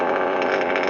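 An O.S. glow plug model engine runs at a steady, raised idle, close by, with a continuous buzzing drone and a faint rhythmic pulsing and no pauses.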